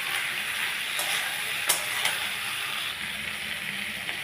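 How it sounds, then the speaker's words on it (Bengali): Spices being stirred into okra frying in a pan, a steady close sizzle with a few scraping clicks of the spoon against the pan, no voices. "দিয়ে আমি এবার ভালো করে এটাকে নাড়ব।"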